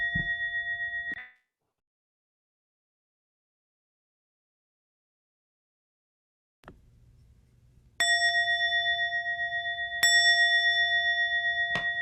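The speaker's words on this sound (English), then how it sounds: "We will start and end with the bell." A chime-like bell opens an online writing session with a short ringing tone that cuts off into silence. Later come two more clear, sustained bell strikes, close and loud, each ringing on.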